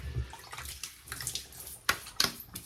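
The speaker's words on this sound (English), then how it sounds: "Let's wet the face a little bit." Water splashing close by as hands wet a face before a shave, a soft continuous trickle with two sharper splashes near the end and no talking.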